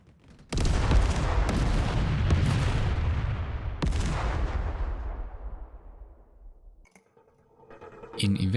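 Starship squadron weapons fire in Ephemeris space combat: a dense barrage of booming shots and blasts that begins abruptly, rumbles on for several seconds, and fades. A second burst follows near the end. No one speaks.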